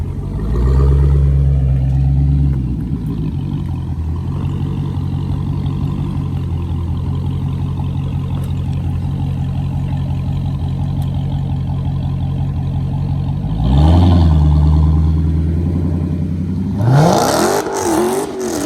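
A Dodge Hellcat's engine roars loud and close during a burnout, holding a heavy sustained rev before surging higher near the end, then breaking into sharp, bursting revs at the close.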